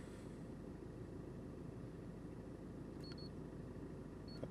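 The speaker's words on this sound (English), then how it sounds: "I can hear it beeping now" Two short, high electronic beeps, about a second and a half apart, from a Launch CRP919E wireless OBD-II diagnostic scan tool connecting to a vehicle, sound over a steady low engine-like hum.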